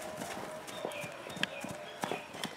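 Faint, quick hoofbeats of a prize-winning racehorse running, a light irregular clip-clop of several strikes heard at a distance.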